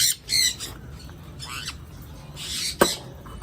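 Conure parrots in a breeding setup let out several sharp, harsh squawks in short bursts, with one loud close shriek near the end, heard over a low steady background hum without speech.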